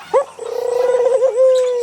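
A farm pigeon coos in a close, throaty, warbling call with a quick opening note followed by a rolling, pulsing coo that holds steady, heard on its own without talking.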